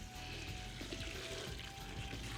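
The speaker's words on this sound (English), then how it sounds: "Now when you pour this water, it's going to come out the sides of the bin" Water pouring steadily into a compost bin packed with shredded paper, a continuous soft splashing and trickling close by, with no talk over it.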